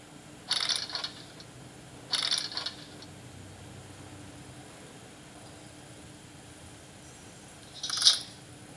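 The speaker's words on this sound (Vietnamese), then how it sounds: "Rồi xoay chìa khóa, chúng ta mở được cánh cửa." Short metallic clicks and rattles come from turning a key and unlocking a door in the mobile puzzle game Tiny Robots Recharged. Two quick clusters sound early, and a sharper click follows after a long quiet stretch, all faint and free of talk.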